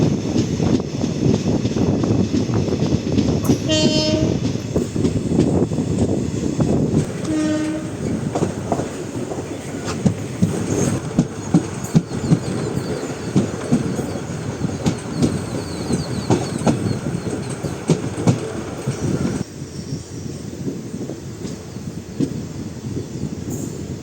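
A passenger train rumbles along steadily past Kumaramangalam station in Tamil Nadu, wheels clattering over the track, with a horn sounding briefly twice early on.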